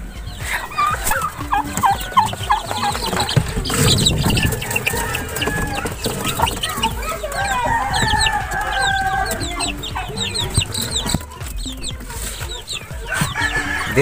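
Backyard chickens in a rural Philippine farm, including week-old chicks, cluck and chirp in a busy overlapping chorus with occasional louder calls and a crow, close by and continuous.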